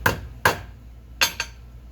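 A small screwdriver prying a part out makes four sharp metallic clicks and knocks in two pairs, close and fairly loud with nothing else heard.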